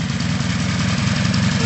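A machine's engine runs steadily on light throttle during a first driving lesson, a loud, continuous low rumble with even vibration close by and no talk.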